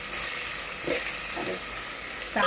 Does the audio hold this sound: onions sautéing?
yes